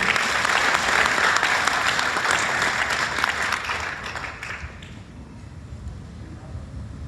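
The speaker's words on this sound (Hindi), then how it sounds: "तो एक बार जोरदार तालियां उनके लिए" An audience at a motivational talk breaks into dense, sustained applause for the organising team, loud and full at first, then thinning and softening over the last couple of seconds.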